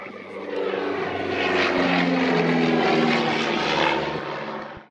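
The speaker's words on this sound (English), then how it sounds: "Now racing pilot Nat Summers in a Gemini with Gypsy Major engines" A Gemini light twin aircraft with Gypsy Major piston engines flies past at an airshow, its loud propeller drone swelling steadily and then cutting off abruptly at the end.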